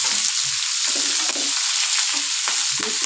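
Onion and capsicum frying in a hot pan, with a steady close sizzle broken by short stirring scrapes and clatters.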